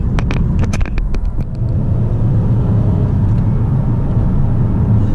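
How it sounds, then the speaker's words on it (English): A Mitsubishi 380 sedan accelerating hard through its gears on the road, a loud, steady engine roar and rumble with a few brief ticks and clatters near the start, no voices. "that acceleration between the gears is what's going to get you past other traffic"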